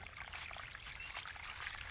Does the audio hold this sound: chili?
no